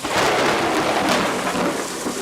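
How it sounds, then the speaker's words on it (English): Thunderstorm sound effect for a Shakespeare stage performance: a dense, loud, continuous roar of rolling thunder and heavy rain that fills the whole moment without any voices. "Another storm brewing, I hear it sing in the wind."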